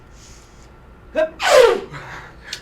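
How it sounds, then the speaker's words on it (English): A single sharp human sneeze in a dusty room, preceded by a quick inhaling gasp and followed by a faint breathy exhale, close and loud against quiet surroundings, with a brief spoken word. "It's a sneeze."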